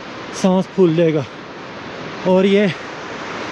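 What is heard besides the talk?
rushing water of a mountain stream along the hiking trail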